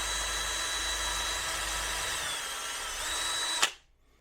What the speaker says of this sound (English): I don't want to drill my holes too deep, so I made this drill stop out of some wire that I had